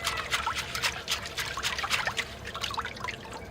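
Water trickles and splashes as it rinses old soil from the roots of a bonsai cherry tree at a root-washing station, a close, uneven patter of running and dripping water with no speech.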